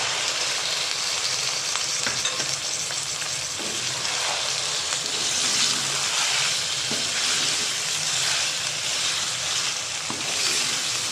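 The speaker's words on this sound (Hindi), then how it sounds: "अब हम इसमें चिकन ऐड कर देंगे और उसको भी साथ ही फ्राई कर लेंगे।" Chicken pieces frying in oil with garlic-ginger paste for chicken khow suey, a loud, continuous sizzle with occasional stirring scrapes running throughout.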